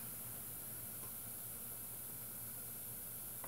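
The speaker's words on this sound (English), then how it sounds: "I was enjoying the bubbling, fizzing sound until the light flickered." Steady, soft fizzing hiss of a bubbling Jell-O mixture, continuous and faint throughout with no talking.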